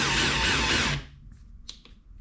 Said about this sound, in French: ça donne des petits à-coups pour enfoncer plus facilement la vis